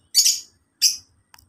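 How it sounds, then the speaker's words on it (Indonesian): Lovebirds in an aviary give two loud, sharp, high chirps spaced under a second apart, followed by a faint brief peep, with near silence in between. "Jika melihat burung-burung lovebird ini"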